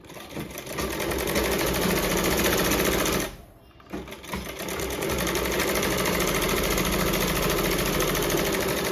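A sewing machine stitches fabric with a seam allowance just over a quarter inch, a loud close whirring run that breaks off briefly, then resumes steadily to the end.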